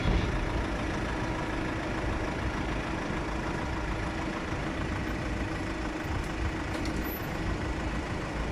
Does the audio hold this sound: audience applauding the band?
no